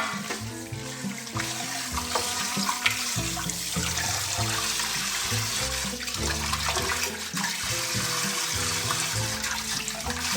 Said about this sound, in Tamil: மஞ்சள் போட்டு தான் கழுவணும்